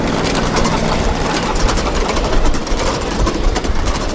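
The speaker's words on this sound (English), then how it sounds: "Here comes the train going by." A miniature train runs past Walt Disney's Carolwood Barn, a 1950 structure, giving a loud, steady mechanical rumble and chugging that carries on throughout.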